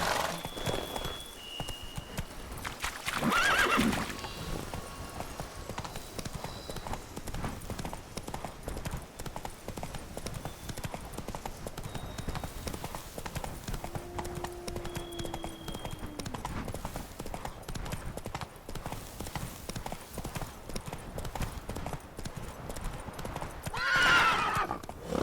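Roach, a horse in The Witcher 3, gallops with rapid, continuous clip-clopping hooves throughout, loud and close, broken by a couple of clear neighs early and late over game ambience.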